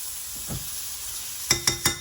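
Steak sizzles steadily in a hot pan with butter, then a spoon bastes it in three quick scraping, spattering strokes near the end, close and alone.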